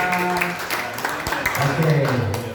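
A church congregation at a worship service claps in a short burst of applause, moderately loud, mixed with voices and background music.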